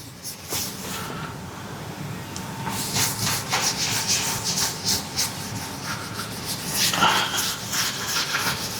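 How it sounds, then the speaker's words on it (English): Cloth rag rubbing Evercoat 440 Express glaze over a car panel repair, a steady close scuffing and swishing that swells and fades in repeated strokes, with no talk. "Just put a bit on a rag, throw it on and rub it over the whole repair."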